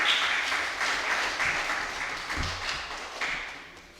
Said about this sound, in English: by the round of applause, I can tell that everyone was listening